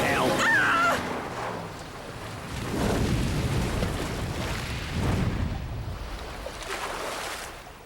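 A vehicle crashes into water in the video game Fear Effect: a loud watery rush and surging splashes that swell in repeated waves over several seconds, with a brief cry at the start.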